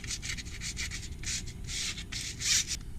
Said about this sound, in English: take the sandpaper and just lightly scuff off the area